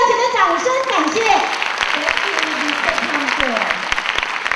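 Steady audience applause fills a theatre hall at the opening ceremony of the 19th Golden Cup international bartending competition in Okayama Cultural Center, a dense continuous clatter of hands running throughout while an announcer's voice speaks over it.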